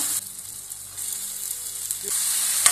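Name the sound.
brinjal frying in pan with onion and tomato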